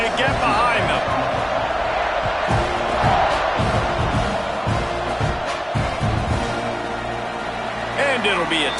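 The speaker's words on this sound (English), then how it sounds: "this crowd now ready to get behind them" A football stadium crowd roars through a kickoff, a dense, loud, continuous wash of cheering and shouting that swells and dips without a break.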